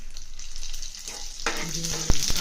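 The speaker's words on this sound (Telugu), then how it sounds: "ఆవాలని జీలకర్ర కరివేపాకు కరివేపాకు వేగింది కదా" Mustard seeds, cumin and curry leaves fry in hot oil. A soft sizzle swells into a louder crackling spatter with a few sharp pops, close by.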